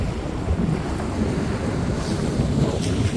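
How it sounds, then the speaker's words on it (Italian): Strong wind on a beach at Tarifa, loud gusty roar buffeting the microphone continuously, with a dense low rush and no speech. "Molto vento, molto vento."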